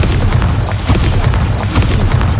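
A deep, rumbling magical blast from the Bombarda exploding spell hitting pumpkins in a video game, a loud sustained low boom with crackling debris on top.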